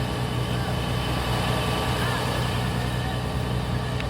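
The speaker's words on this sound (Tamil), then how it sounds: "இன்ஜின் வந்து பின்னால் லேசாக அதர்ற மாதிரி இருக்குதுன்னு சொன்னோட" A fishing boat engine runs off Pangkor Island, Malaysia, vibrating slightly at the back, giving a steady close drone with no pauses.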